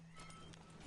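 Horse hooves clip-clop on the ground in a video game, a quick run of rhythmic thuds heard clearly over a low steady hum, with no talking.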